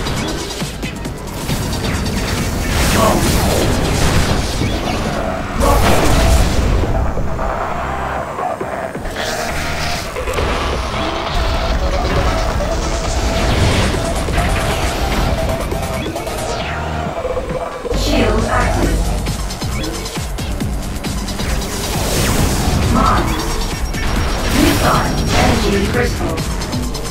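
Bomb and rocket weapon blasts crash repeatedly through the fast racing game Wipeout Pulse, layered over a loud, dense electronic soundtrack and engine drone with no pauses.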